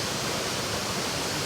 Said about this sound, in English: Just saw the other waterfall in Baringo County.